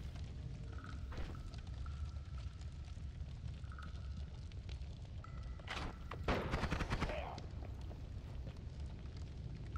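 Wand spells fired in rapid succession in the game Noita, a steady crackling barrage with a louder burst of blasts about two-thirds of the way through.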